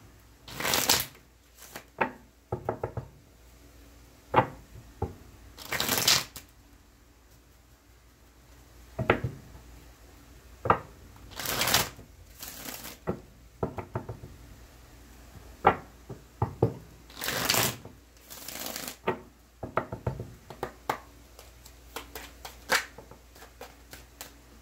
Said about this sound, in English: I'll take two cards at the bottom of the deck after I cut for overall energy